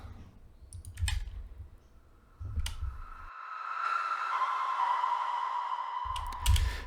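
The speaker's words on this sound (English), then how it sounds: "using that reverse reverb technique underneath some plucks" Sharp clicky plucks punctuate the track while a smeared, rising reversed swell builds underneath, then cuts off before the plucks return.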